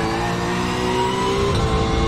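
A Porsche 911 GT3 R race car in iRacing powers out of a corner with a loud, steady engine roar that builds slightly in pitch and intensity.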